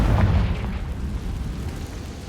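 A fiery Confringo spell blast in the video game Hogwarts Legacy, a loud booming explosion with a crackling, rumbling tail that fades over a couple of seconds, heard alone.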